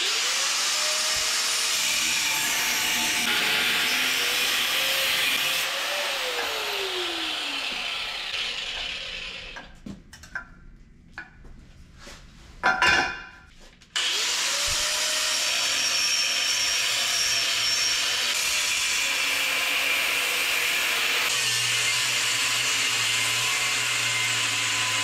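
Metal ladder rack overhang being cut off a service truck, a steady grinding mechanical whine running loud and continuous, dropping out briefly in the middle with a few sharp clanks before resuming.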